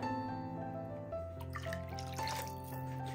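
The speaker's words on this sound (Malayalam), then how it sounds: "ഇനി ഇതിലേക്ക് ആവശ്യത്തിനുള്ള വെള്ളം ഒഴിച്ചു കൊടുക്കാം സാധാരണ പച്ചവെള്ളം തന്നെയാണ് ഒഴിക്കുന്നത്" Three cups of plain water poured into a cooking pot already holding tamarind water give a soft splashing gurgle that builds partway through, close and low over a steady hum.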